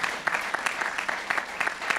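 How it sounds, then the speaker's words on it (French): Audience at the Avignon Off festival 2013 applauding a performer, with fairly brisk, steady clapping throughout and small peaks of louder claps. "Vous pouvez applaudir Popek"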